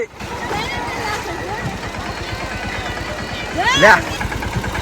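A tractor engine chugs with a steady low throb as it crosses a flowing river in a village, with rushing water and people talking over it throughout.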